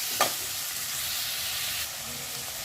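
Chopped tomatoes sizzle in a hot pan for spinach paneer gravy, a steady close frying hiss with a short clink of the stirring spoon near the start.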